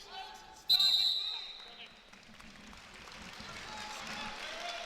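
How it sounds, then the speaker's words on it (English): An engaged crowd at a college wrestling duel in Maples Pavilion, Stanford against Arizona State: a sharp whistle-like shout leads into a swell of cheering and applause that settles into a steady murmur of the arena, with a commentator talking. "Crowd at Maples Pavilion here. Pretty engaged, pretty excited for this duel here."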